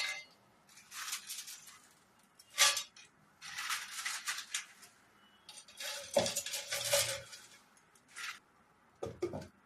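Dried tomato pieces tipped into a dry grinder jar, with clinking and rattling of pieces against the jar and utensils in scattered bursts, loud sharp knocks around the middle.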